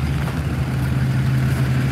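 A pickup truck engine idles nearby, a loud, steady low rumble with a constant hum throughout and no talk.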